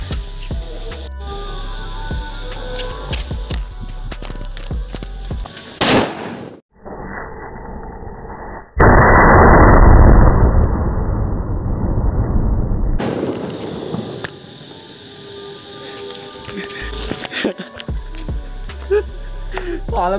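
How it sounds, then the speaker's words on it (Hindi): A firecracker bomb set off at a Janmashtami celebration bursts in a sudden loud blast, followed by a few seconds of roaring, crackling noise, with festive music and background sounds playing before and after. "तो गाइस मैंने बम यहाँ पे रख दिया है"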